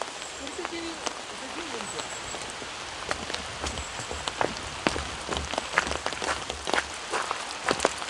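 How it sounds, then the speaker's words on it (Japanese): Rain falls steadily outdoors, a constant soft patter with scattered sharper drops and taps, fairly close, while people talk faintly beneath it. "雨です。"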